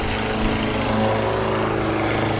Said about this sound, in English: Of course, someone's mowing right now.